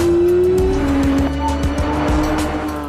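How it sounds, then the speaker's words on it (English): A Porsche 911 GT3 RS with PDK transmission accelerates at full throttle on a racetrack, its engine howl loud and close, then dropping abruptly at a quick upshift before climbing again, with tire noise beneath. "In a full throttle upshift, the transmission shifts from one gear to the next in less than 100 milliseconds."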